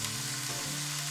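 Potato pieces fry in three tablespoons of hot oil, a dense close sizzle with a brief stirring shift partway through, steady and loud with no talking.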